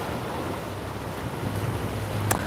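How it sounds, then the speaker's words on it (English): Waves crash against a harbor seawall during a tropical storm, a continuous loud roar of surf and wind with one sharp splash near the end, no voices. "Just enjoy the crackling of the waves crashing up against the seawall."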